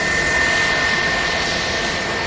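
A Lufthansa Airbus A321 jet roars steadily during takeoff at Manchester Airport, a loud, broad, continuous engine rush with a faint whine running through it.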